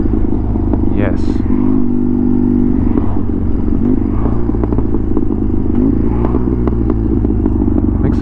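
A custom BMW R100 motorcycle engine drones steadily while out on a road ride, with a low continuous rumble and wind buffeting throughout, and a voice talking over it.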